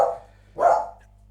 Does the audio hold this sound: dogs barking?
yes